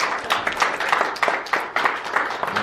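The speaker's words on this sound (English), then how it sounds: "Let's give the Lord a hand clap of praise" A church congregation claps in praise during a Sunday service, dense overlapping hand claps in an irregular rhythm filling the room, with faint voices mixed in.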